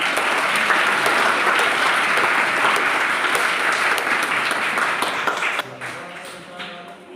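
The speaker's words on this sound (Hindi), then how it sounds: "एक बार जोरदार तालियां" Schoolchildren and teachers clap loudly at a Gandhi Jayanti school event, a dense steady round that drops off near the end as a voice begins.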